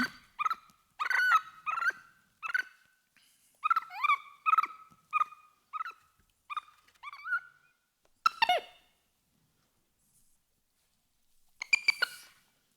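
Recorded capuchin monkey calls come in a rapid string of short, high, harmonic yelps and chirps, close and clear, pausing briefly before a couple of louder later bursts.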